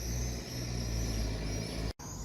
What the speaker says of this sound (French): Avez-vous remarqué qu'à chaque fois, il y a une voiture qui passe?